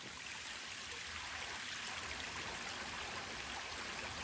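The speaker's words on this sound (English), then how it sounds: "Spring coming out of the mountain. Just coming straight out of the hill." Spring water flowing straight out of a mountainside on an Arkansas hike, a faint, steady trickling rush with no voices.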